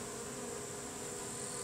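Japanese honeybees (Apis cerana japonica) from a swarm being recombined into a hive make a dense, continuous buzzing drone, close and steady with no pauses.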